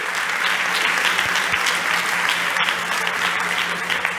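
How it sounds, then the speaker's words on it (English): A large crowd at a startup competition event claps for the judges, a dense, steady applause that stays loud and even from start to finish with no talk over it. "can we get a big round of applause for our VIP judges here?"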